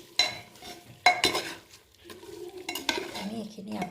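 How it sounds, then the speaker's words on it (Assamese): Goat meat with half a cup of coconut stirred in a pan, giving sharp scraping clatters of the utensil against the pan with a soft sizzle between strokes, close and alone. "এতিয়া মই ইয়াতে এয়া আধা কাপ নাৰিকল দি দিছোঁ আৰু এতিয়া ধুনীয়াকৈ লৰাই দিম।"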